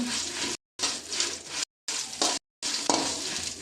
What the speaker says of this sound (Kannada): ಚೆನ್ನಾಗಿ ಫ್ರೈ ಮಾಡುವ ನೋಡಿ ಚೆನ್ನಾಗಿ ಮಾಡಬೇಕು